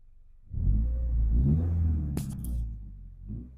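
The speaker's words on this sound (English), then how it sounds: "Put it neutral and rev it up a little bit just because I want to." Subaru Crosstrek Wilderness with a Nameless quad exhaust, revved in neutral, giving a deep, throaty engine swell that holds loud and close for a few seconds before easing back, with a shorter blip near the end.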